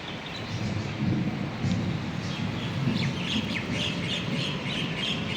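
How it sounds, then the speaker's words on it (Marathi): Gentle thunder from rain clouds rolls in low and soft, a steady distant rumble with birds chirping and tweeting over it outdoors. "ढगांचा हळुवार गडगडाट सुरू आहे."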